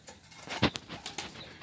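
Domestic pigeons in a partly roofed loft, with soft coos and a brief burst of wing flapping in the middle of a quiet, close recording.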